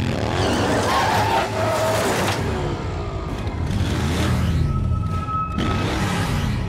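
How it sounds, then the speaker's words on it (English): In an animated series, a vehicle's brakes screech and its tires skid under a loud engine roar. Several long squeals rise and fall across a dense, loud soundscape with no audible speech. "Hit the brakes!"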